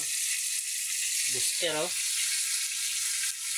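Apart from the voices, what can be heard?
food frying and sizzling in a pan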